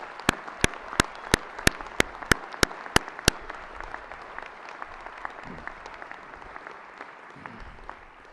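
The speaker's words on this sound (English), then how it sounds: "I'd like everybody to give these people a round of applause for the remarkable achievement." Audience applause for graduates at a convocation ceremony, opening with about ten loud, evenly spaced nearby claps before a broad crowd of clapping carries on and slowly thins out.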